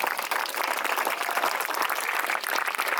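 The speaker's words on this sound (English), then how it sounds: "So can you just give Dorothy a round of applause" An audience at a blue plaque event for the Corinthian Ladies applauds Dorothy, a player from the club's very first season. The clapping is steady and fairly soft, with no voices over it, for about three seconds.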